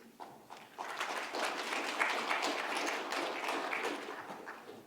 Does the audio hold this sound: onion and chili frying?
no